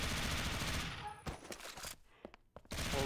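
Gunfire in the video game Warrock: a dense stretch of rapid automatic shots, then a few scattered sharp bursts with brief gaps, loud and close through game audio.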